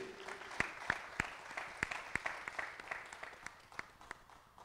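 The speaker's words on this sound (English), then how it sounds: "please welcome, big applause to Mr." Sparse applause greets a para shooting athlete introduced at a firing point during a mixed 50m rifle prone SH1 world para sport event, distinct individual claps ringing out over a quiet hall.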